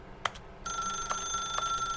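A telephone rings in The Stanley Parable Ultra Deluxe video game, a bright electronic ring with a steady tone and repeated pulses, heard close and clear with no talking.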